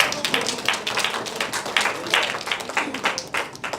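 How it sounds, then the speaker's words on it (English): An audience at a leadership training workshop applauds in a steady, dense patter of many hands clapping together, lasting several seconds at moderate volume. "Give a round of applause."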